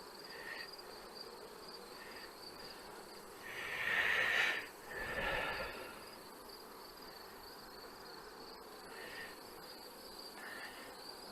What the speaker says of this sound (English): There's more bees than comb in there, and they got nowhere to go.